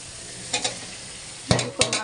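Taro pieces sizzle in hot oil with a spice paste fried until the oil separates, with a continuous hiss broken by three or four sharp scraping stirs of a spoon against the pan, close and loud.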